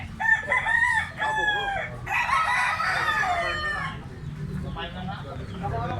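Young stag roosters at a market stall in Tabunok, Cebu, crow and cluck nearby in two strained, wavering bursts. Voices talk quietly alongside.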